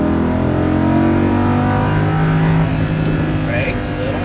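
A Lamborghini Huracan LP610-4 pulls away at full throttle, its engine a loud, steady, rising roar heard from up close, while an instructor talks over it.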